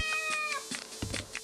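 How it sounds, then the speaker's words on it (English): A cat meows in a short burst with a few rapid, pitched cries, fairly close and clear over a soft steady background hum, with no one talking. "This is a cat."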